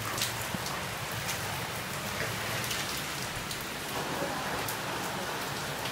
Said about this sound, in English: Looks like it is hailing a very little bit.